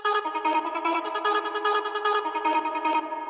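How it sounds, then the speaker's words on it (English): Trance-gated core synth melody made in Ableton, its sustained bright chords chopped into a rapid, steady rhythmic pulse, loud and up front with nothing else beneath, cutting off just before the end. "In the main synth group, we only have the core melody with the trance gate,"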